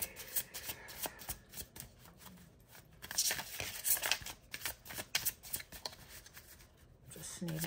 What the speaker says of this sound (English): this time we needed to cut it in three.